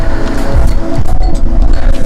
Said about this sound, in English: there's always wind noise around here